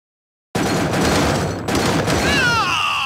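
Dense gunfire rattles through a real-time strategy ladder battle, a loud continuous barrage of shots that drops out briefly once, with a radioed unit voice cutting in near the end.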